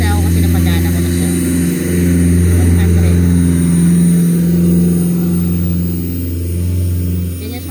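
A Jisulife turbo handheld fan runs at its top speed of 100, a steady loud close whir with a strong humming drone, while a person talks over it.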